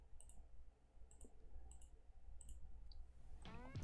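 Computer mouse single-clicking at a desk while drawing shapes in design software; light, sharp clicks in small pairs repeat every half second or so, close and quiet over a low hum, ending in a brief rustle.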